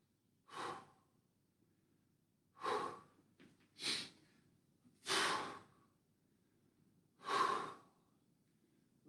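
Five forceful breathy exhales during a mobility and stretching exercise, spaced about every one to two seconds, each a short whooshing burst standing alone over faint room noise.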